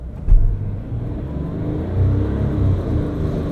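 Medium SUV engine revving under throttle during an off-road climbing test, a close low rumble rising and holding with slight surges.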